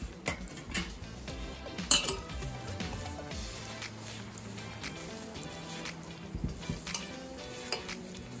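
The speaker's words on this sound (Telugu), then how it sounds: "దీనికి తగినంత ఆయిల్ వేసి కలుపుకుందాం అండి." Oil is mixed into mango pickle with a spoon, giving soft scraping and wet stirring noises with occasional clinks against the bowl, close but quiet, with no talking.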